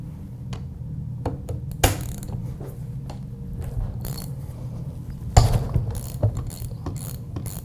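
A four-pin special tool works the balancer shaft retainer off a Honda CRF450X engine during a clutch-side teardown, with close metallic ratchet clicks, taps and scrapes in an irregular rhythm and no talk.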